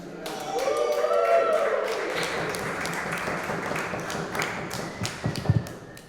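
Audience at a live comedy show in a brewery taproom breaks into applause for the next comedian, a dense wash of clapping that swells early, then thins into scattered claps and taps near the end.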